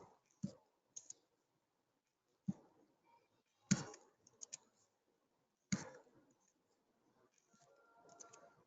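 Computer keyboard and mouse clicks at a desk, a handful of sharp, isolated taps and clicks spaced irregularly over quiet room tone, close and fairly faint.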